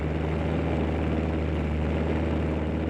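A World War I propeller airplane in flight, its engine giving a steady, dense, rumbling drone that holds constant throughout at moderate loudness, with no talk.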